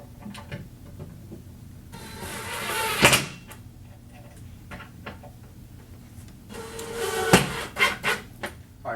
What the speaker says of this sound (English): So I'm going to go ahead and install these drawer glides now.